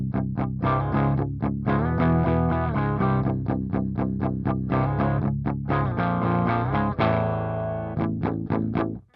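An electric guitar plays through a Rev 100P amp set completely clean, with loud rhythmic chord strums and quick chord changes that end on a sustained ring before cutting off.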